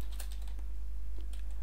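Keys clack on a computer keyboard in quick, irregular taps, close and clear over a low steady hum, with no speech.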